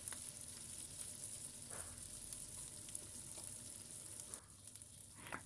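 Ground chili, cumin and coriander sizzle softly in hot oil in a pan for Bengali broad bean dal, a faint steady frying hiss with a few light stirring scrapes.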